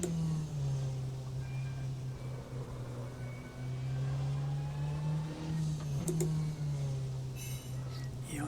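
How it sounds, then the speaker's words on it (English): A race car engine in the rFactor 2 sim runs at a steady, sustained drone, holding a constant pitch with slight swells and a brief shift blip partway through, with no voices. "What a strange sounding engine."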